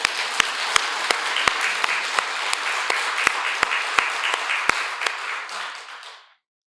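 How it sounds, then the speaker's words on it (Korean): A church congregation at a Sunday service applauds in a sustained wave of clapping, with a few sharp, louder claps standing out near the microphone, and the sound stops abruptly after about six seconds. "박수 한번 해주세요."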